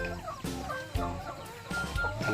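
Laying hens on a small backyard farm cluck in short, overlapping bursts, close and steady throughout, with a few sharper calls rising above the flock and no one speaking.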